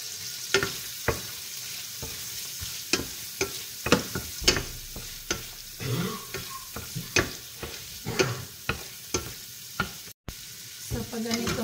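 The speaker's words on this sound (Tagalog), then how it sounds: "So, ilagay natin yung ating shrimp. So, season natin ng konting salt yung ating shrimp." Salt-seasoned shrimp sizzle steadily in a hot pan, with a constant frying hiss punctuated by frequent sharp clicks and scrapes of stirring, close and fairly loud.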